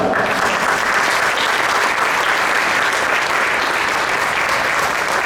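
An audience at a World Theatre Day event applauds continuously, with loud, even clapping from a large crowd that holds for more than five seconds without pause.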